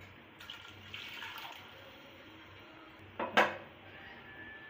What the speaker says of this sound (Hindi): तो यहाँ पर मैं 4 गिलास पानी के इसमें शामिल करूँगी